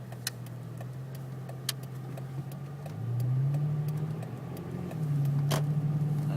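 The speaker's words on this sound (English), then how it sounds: "I am driving in a truck right now" A truck engine hums steadily while driving, with the drone stepping up in pitch as it accelerates, plus faint interior clicks and rattles.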